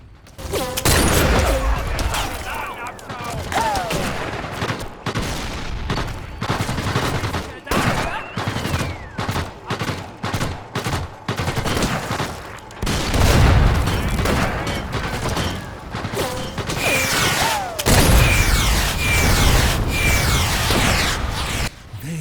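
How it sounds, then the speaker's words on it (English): Battle in the video game Sniper Elite VR, with a captured artillery gun firing on a tank: loud repeated booms and heavy gunfire bursts, dense and continuous, with voices in the mix. "The captured artillery destroyed the tank and bought us another chance."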